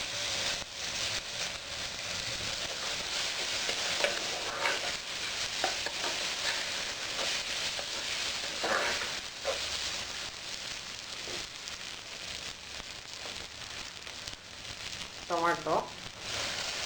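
Mint leaves and lentils fry in a pan for millet khichdi, giving a steady close sizzle throughout with occasional stirring scrapes, under faint background sounds.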